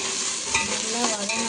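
Whole shallots sautéed and stirred in a hot pan, giving a steady close sizzle and frying hiss with soft scraping turns of the spoon, no voices over it.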